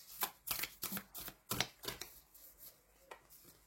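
Tarot cards are shuffled and drawn in quick, crisp bursts of riffling and flicking, several sharp papery snaps close by, then a few sparser taps as a card is set down, quiet and without talking.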